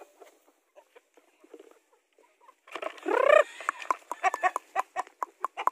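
Free-range chickens feeding on pellets mixed with live vaccine: soft scattered pecks and taps at first, then a loud close cluck or crow followed by rhythmic pecking and clucking.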